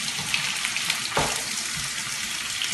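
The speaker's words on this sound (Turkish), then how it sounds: "soğan ve biberi kavuruyoruz." Chopped onion and pepper fry in a pan for Turkish menemen, giving a loud, steady sizzle and crackle with a brief stirring scrape partway through.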